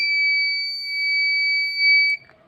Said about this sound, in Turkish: eğer mesafe 20 santimin altındaysa buzzer ötüyor ve led yanıyor